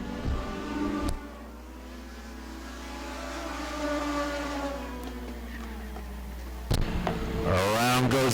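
Legend race cars circling the Auburndale track, their engines rising and falling as cars pass, with a loud close pass-by roar near the start and a sharp burst of revving near the end.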